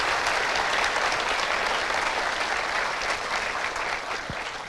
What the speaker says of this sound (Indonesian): Kita berikan aplaus orang tua tercinta.